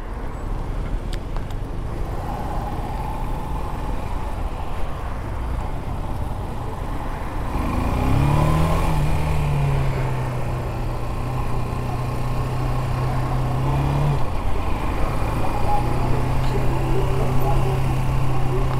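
Single-cylinder Shineray SHI175 motorcycle engine heard while riding, a steady mid-pitched drone with a rising tone partway through, wind and road noise throughout, close and fairly loud.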